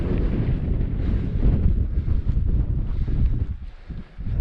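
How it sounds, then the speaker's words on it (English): Strong, cold wind gusting on a high fell near Dale Head in the Lake District, loud and continuous, buffeting the microphone with deep rumbling surges that dip briefly near the end. "It's quite breezy actually"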